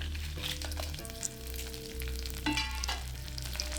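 Chana dal and Kashmiri dried red chillies frying in a pan for Iyengar puliyodharai spice powder, a steady close sizzle with stirring scrapes and a low background hum, with no talk.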